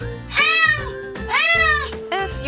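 A pet cat meows three times in a row indoors, each call loud, close and drawn out, with brief gaps between them and no one speaking.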